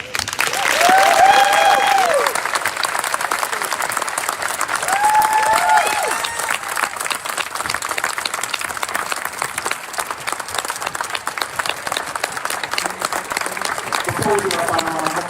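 A crowd applauds at the swearing-in ceremony of Sacramento's police chief, with sustained, full clapping throughout, a couple of brief whistles or cheers near the start, and the ovation holding steady to the end.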